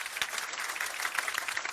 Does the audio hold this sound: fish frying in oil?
no